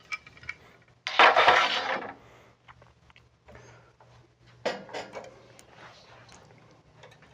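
Plastic door being taken off the hinges of a Coverbind envPrinter: a loud scraping slide near the start, then scattered small clicks and taps, and a second scraping rattle midway, close up with no talking.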